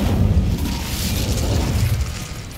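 A fiery Incendio spell bursts over dry vines in Hogwarts Legacy, a loud, dense whooshing roar with deep rumbling booms that holds steady for a couple of seconds.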